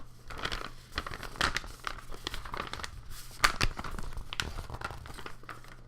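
A paper takeout delivery bag being crumpled and crinkled near the microphone for ASMR, producing continuous rustling and crackling with sharper snaps scattered throughout and no voice present.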